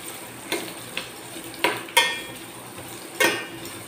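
Onions frying in a pan for manathakkali puli kulambu, with a steady sizzle under several sharp scrapes and clinks of a spoon stirring against the metal, close and fairly loud, no talking.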